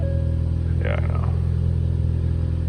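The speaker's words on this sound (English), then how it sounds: "that's definitely more turbo noise" A Ford Focus ST engine idles after a new aluminum valve cover install, a steady deep rumble with a low mechanical drone and a brief higher whistle, with a voice speaking over it for a moment.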